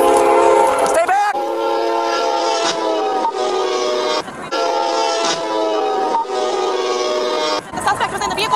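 A loud train horn blares in long repeated blasts while a train rumbles past close by after hitting a vehicle on the tracks, with shouting voices mixed in.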